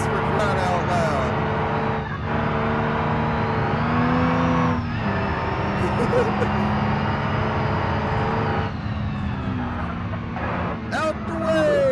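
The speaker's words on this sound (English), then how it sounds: "I'm drifting a school bus for crying out loud." A school bus drifting in BeamNG.drive on Deal's Gap, with a steady loud engine drone and long squealing tire skids, while someone talks over it throughout.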